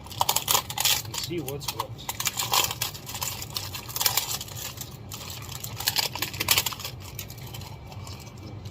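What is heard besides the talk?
opening cellophane packaging of piston kit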